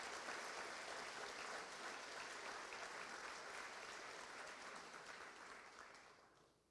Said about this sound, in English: I think that's worth a round of applause as well for that.